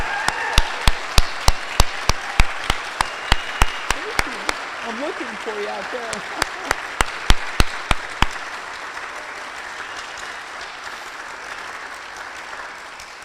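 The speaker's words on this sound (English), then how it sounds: "So let's give her a round of applause." Audience applause for the new Regional Chancellor of the University of South Florida Sarasota-Manatee, with loud sharp claps through the first eight seconds before fading into murmuring crowd noise as a speaker thanks them.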